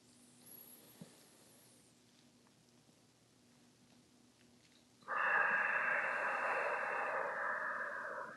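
A slow, audible exhale during a yoga practice, a soft, steady breathy hiss that begins suddenly after a quiet pause and holds for about three seconds close to the microphone.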